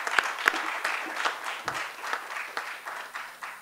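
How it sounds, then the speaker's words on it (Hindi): Applause from an audience at a kavi sammelan poetry gathering in 2022, a thinner crowd clapping with distinct sharp individual claps over a softer wash. "एक बार जोरदार तालियां"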